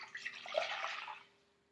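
Filtered water poured into a measuring cup for pickling, a short close splashing stream about one second long that trails off into quiet.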